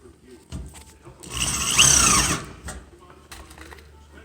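A power driver whirs in one short burst of about a second, driving a panhead framing screw into metal studs, with a faint grinding squeal as the screw bites. Quieter handling noises come before and after.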